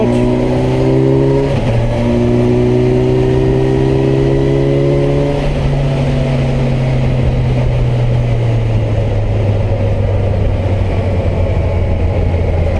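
A 2021 Kawasaki Versys 1000 SE Grand Tourer motorcycle accelerating hard in fifth gear, its loud, steady engine drone rising in pitch from close by, with a brief dip early on and strong wind rush throughout.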